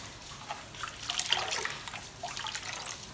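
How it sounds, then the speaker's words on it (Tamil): Water poured into a pot of thuthuvalai rasam, a steady splashing trickle that is close and fairly loud, with brief bubbling pulses and no talking. "நான் தண்ணி இன்னும் கொஞ்சம் ஊற்றிக்கிறேன்ப்பா."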